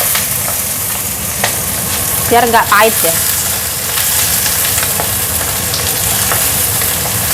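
Chili and garlic frying in hot oil for sambal bawang, a steady loud sizzle throughout with some stirring clatter partway through and a brief voice in the middle.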